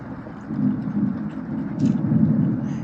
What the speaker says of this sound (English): Wish the rain would stop